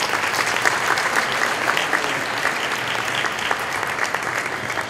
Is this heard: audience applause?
yes